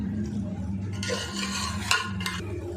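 A spoon scrapes and stirs marinated chicken into masala in a pot for chicken dum biryani made with broken rice, giving soft, repeated clinks and a gentle sizzle, close and fairly quiet with no talking.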